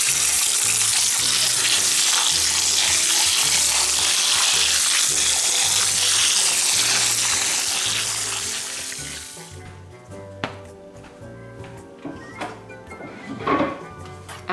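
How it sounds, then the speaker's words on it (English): Potatoes washed under a kitchen tap, a loud steady rush of running water for about nine seconds, then the flow stops and a few close knocks and clatters follow. "We're gonna wash the potatoes real quick."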